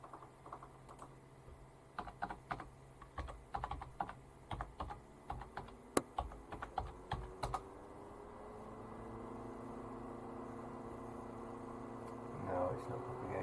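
Fingers tap on a computer keyboard in short bursts of quick, close keystrokes, then the typing stops and a steady hum remains with a brief rustle near the end.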